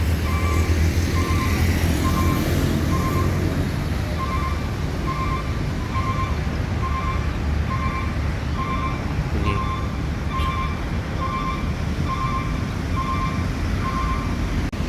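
An ALS intercity bus with cargo stacked high on its roof runs close by, a loud steady engine rumble with a repeating beep over it, and no voices.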